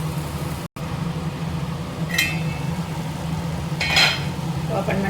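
Brinjal masiyal cooking in a pan, stirred with a spoon, giving a steady low sizzle broken by a couple of sharp metallic scrapes of the utensil against the pan.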